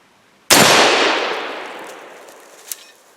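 A single loud, sharp crack of a Mosin rifle firing a 7.62x54R reload with bayonet fixed, followed by a long reverberating decay outdoors and a faint metallic ping near the end.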